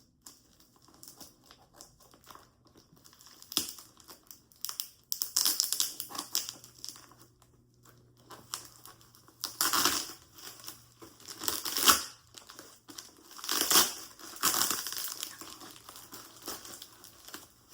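Crinkling, tearing and scratching of tape as a tightly taped package is slowly worked open at close range, in irregular bursts with quiet gaps between them and no talk.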